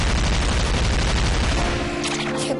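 A cannon fires in the Shantae and the Pirate's Curse video game, a dense, loud barrage of rapid booming shots for about two seconds, followed by brighter game tones as the firing stops.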